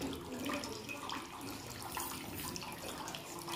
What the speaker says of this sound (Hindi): बाकी का पानी क्या हो रहा है, प्रेशर की मदद से दूर गिर रहा है।